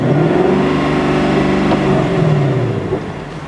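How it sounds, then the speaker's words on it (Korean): A Lexus LC 500 Convertible engine revs up and sustains a rising, throaty, emphasized exhaust note, then eases off toward the end. "이 차는 엔진 소리뿐만 아니라 배기음도 좀 강조가 돼 있는데"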